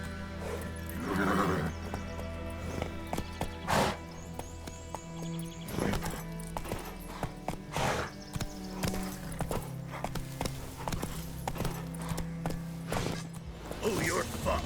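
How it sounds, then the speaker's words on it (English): A horse gallops and neighs in the video game The Witcher 3, with a whinny early on, then irregular hoof clops and thuds among mechanical clatter, and voices talk at times. "Giddy up."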